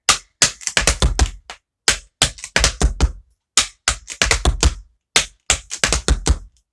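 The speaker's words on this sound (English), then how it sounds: "just focus on making that cramp roll faster and then adding on that shuffle" Tap shoes strike a hard floor in a double cramp roll followed by a shuffle. Crisp, close clusters of rapid taps repeat in steady phrases with short pauses between them.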